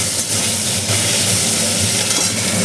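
Spices frying in a pan for a Bengali fish curry, a loud, dense hiss and crackle of hot oil with stirring scrapes underneath, continuous and close.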